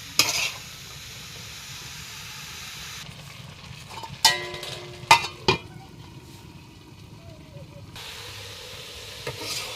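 Vegetable bhaji with spices fries in a pan: a low steady sizzle broken by several sharp metallic clinks and scrapes of stirring in the middle, with a louder hiss at the start and end.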